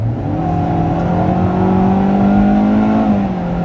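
A 2020 Kia Forte GT-Line accelerating hard from about 25, heard from inside: the engine drones steadily upward in pitch with a loud, continuous whir and no talking.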